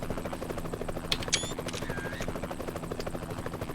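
A helicopter hovers overhead in the American Truck Simulator game near the Grand Canyon, its rotor chopping in a steady rhythm, with a few brief chirps and tones layered over it.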